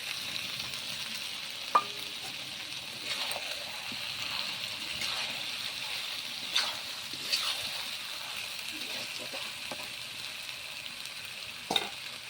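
Potatoes go into chicken frying in a pan for a village-style chicken dish, bringing a soft, steady sizzle broken by a few quiet clunks of food or utensil against the pan.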